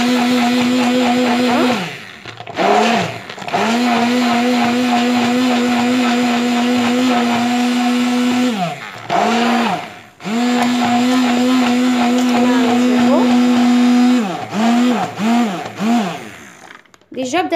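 A blender whirs loudly and close up as it mixes yogurt cheese spread with oil, starting and stopping in several bursts, its motor pitch dipping and recovering as the mixture thickens.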